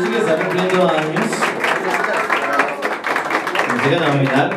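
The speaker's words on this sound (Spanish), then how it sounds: "Aplauso también para Lucy, que está cumpliendo años." Crowd applauding and clapping for a birthday at an evening mariachi serenade, a steady dense wash of claps lasting throughout with voices mixed in.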